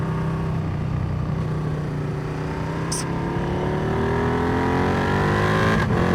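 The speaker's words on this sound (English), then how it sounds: "There's a car there." A car on a road in Germany is heard from inside a moving vehicle: a steady engine and road drone rises slowly in pitch as it gathers speed, and a short sharp noise breaks through near the middle.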